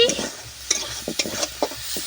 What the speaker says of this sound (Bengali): হালকা করে নেড়ে নিচ্ছি